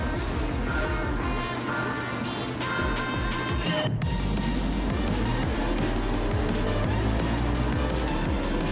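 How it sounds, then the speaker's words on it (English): Racing cars roar away from the grid at a race start in Gran Turismo 7, several engines droning and revving together in a loud, dense wall of sound with rising gear changes. "as the race begins, the other cars slowly take off into the distance"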